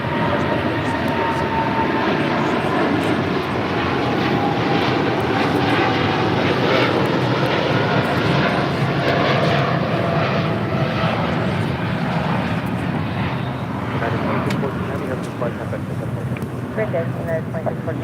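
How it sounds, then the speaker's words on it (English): A United Boeing 787-10 Dreamliner takes off from LAX bound for Newark, its jet engines giving a loud, sustained roar that holds steady for the whole stretch and fades a little toward the end, with occasional voices in the background. "That was a United Dreamliner."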